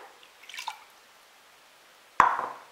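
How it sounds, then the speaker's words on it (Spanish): Cold water from a cup is poured into a pot of coconut sweet mixture, a brief soft splash following a few faint earlier drips, with the liquid sound fading out after the pour. "Ahora vamos a echar nuestra taza de agua fría."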